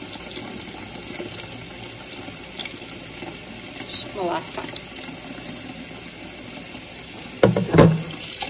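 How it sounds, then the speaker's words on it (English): Cold tap water runs into the inner pot of a Zojirushi NHS-18 rice cooker with a continuous hiss, building into a louder gushing splash near the end, while a person speaks briefly. "Just want to put cold water into it."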